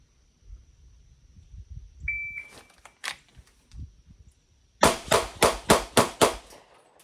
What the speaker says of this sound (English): You got to put 6 rounds into the target.